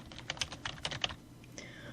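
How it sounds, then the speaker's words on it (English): Rapid keystrokes on a computer keyboard while entering data into an Excel worksheet cell, a quick irregular run of clicks, close and clear, with no speech. "all we need to do is simply type on our keyboard and data will be entered in the cell"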